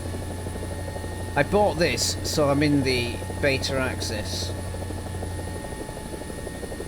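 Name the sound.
helicopter flying in video game War Thunder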